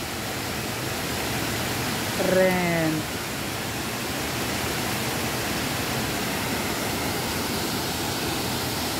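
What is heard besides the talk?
waterfall at a mountain swimming spot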